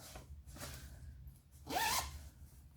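A blue zipper on a fabric pouch being handled, quiet short zips and rubbing, with one louder, brighter pull near the end, close and otherwise alone.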